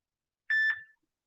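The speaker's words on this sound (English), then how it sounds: "Sorry, my phone keeps beeping at me." A phone gives a single short electronic beep, a clear tone lasting under half a second that fades quickly, alone in silence.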